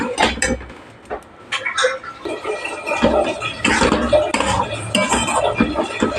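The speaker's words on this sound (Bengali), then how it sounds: "বেশ কিছুক্ষণ ধরে নাড়তে চাড়তে হবে।" Masala for a bottle gourd leaf sabji is stirred in a pan, with loud, close metal spatula scrapes and clanks against the pan coming in irregular bursts, no speech.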